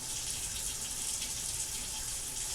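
Water pours steadily from a kitchen tap while a cake is being made, a close, constant hissing gush with no talk.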